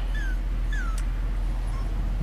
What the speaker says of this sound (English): I don't know why my dog's whining.